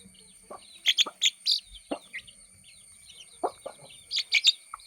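A five-month-old female Erode cross hen gives soft, scattered clucks up close, mixed with brief high chirps from other birds in a quiet rural yard.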